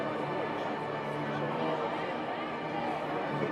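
Steady crowd din fills a gymnasium during a high school wrestling meet, a dense continuous murmur of many voices and cheering that stays loud and even throughout, with no single voice standing out.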